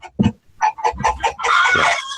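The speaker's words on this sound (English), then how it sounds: "How many chickens do you have now, Luke?" Chickens at a rural property give a burst of loud, close clucks, followed by a drawn-out crowing call from a rooster.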